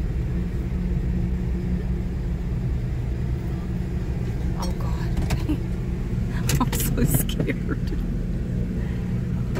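A large turbocharged diesel engine, bigger than a 5.9 Cummins, drives a moving boat with a steady low rumble that builds slightly, while people talk over the drone nearby.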